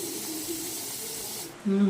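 A pressure cooker on the stove in a home kitchen lets out a loud, steady steam hiss close by, cutting off sharply near the end as a voice begins to speak.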